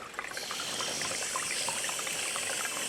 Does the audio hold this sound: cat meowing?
no